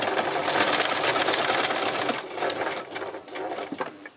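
A sewing machine stitches down fabric in a steady, fast mechanical whir that runs close and continuous, easing and faltering slightly toward the end.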